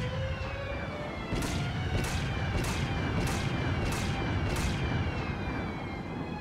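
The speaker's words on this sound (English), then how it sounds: "Fire the cannon. I love the sound of cannons in the morning." In Dragon Quest XI, a ship's cannon fires in a rapid series of about seven evenly spaced sharp booms over a continuous roaring background, moderately loud.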